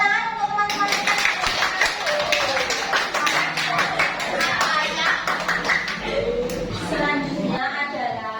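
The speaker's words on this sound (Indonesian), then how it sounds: "Tepuk tangan untuk teman-teman kita." Classroom applause from students, a dense burst of many hands clapping together steadily at close range, with some voices mixed in near the end.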